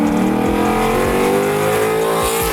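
Ford Mustang GT V8 fitted with Stainless Works headers and exhaust, roaring loud and close with a deep, rumbling tone as the revs climb, no talking.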